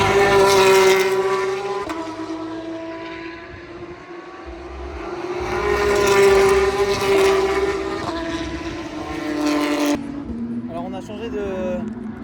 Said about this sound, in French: Il y a la Porsche Cup qui tourne, regardez. C'est abusé, c'est un truc de malade,